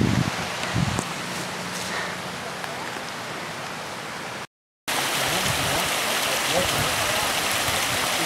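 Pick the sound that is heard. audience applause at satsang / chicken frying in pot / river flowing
river flowing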